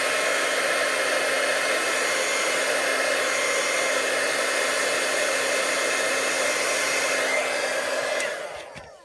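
A heat tool blows with a loud, steady whooshing roar at close range while drying shimmer ink on a watercolour-style fall leaf card, then cuts off abruptly near the end.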